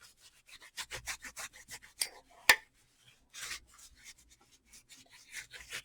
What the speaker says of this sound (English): I'm going to take that baby wipe again, and then I'm going to wipe up all of this